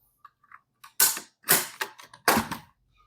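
Charging handle of a full-metal DR-200 gas blowback airsoft rifle is pulled and released, giving a few sharp metallic clacks and rattles in quick succession, close and crisp against near silence.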